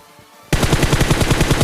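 Automatic weapon fire in the mobile battle royale game BGMI: after a short near-silent lead-in, a loud, rapid burst of shots keeps on, close and with no talking.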